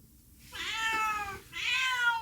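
A cat meows twice, close and clear, with a short pause between the two drawn-out calls and no one talking.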